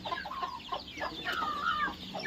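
Country hens on a small poultry farm cluck in short, irregular bursts, close and fairly loud, with no voices over them.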